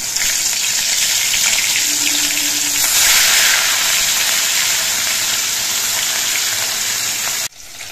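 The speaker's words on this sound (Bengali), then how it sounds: "সর্ষের তেলটা গরম হয়ে যাওয়ার পর এই তেলের মধ্যে দিয়ে মাছগুলো ভেজে নিচ্ছি" Rohu fish pieces fry in hot mustard oil in a kadai, producing a loud, continuous hiss and sizzle close by. The sizzle stays steady until it drops abruptly near the end, with no voices.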